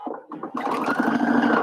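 A domestic sewing machine top stitches a bucket hat, with a couple of short stuttering bursts followed by a steady, continuous run of the motor and needle, close and clear.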